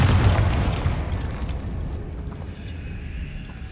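Confringo blasting spell from Hogwarts Legacy detonating in a deep booming explosion that hits hard at once, then rumbles and decays into crackling debris over several seconds, with no voices.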